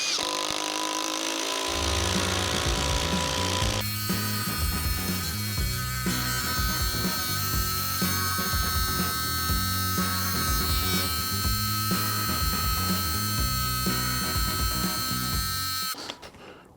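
A Ryobi power tool drives a lag screw into wood, a loud continuous motor whine with a strained, labouring drone that holds steady for most of the stretch before cutting off at the end.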